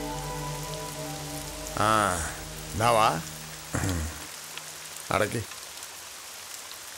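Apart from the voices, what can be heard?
rain falling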